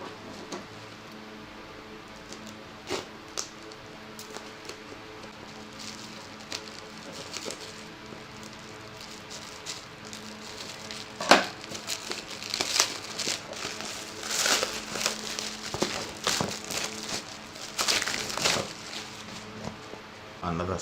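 Crinkling and rustling of packaging as a refurbished GoPro Hero 5 box is opened by hand, with scattered crackles and paper handling growing busier and louder partway through, close and intimate.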